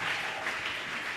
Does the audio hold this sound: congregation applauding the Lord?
yes